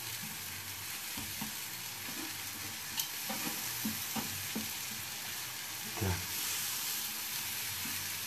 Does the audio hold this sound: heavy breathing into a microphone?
no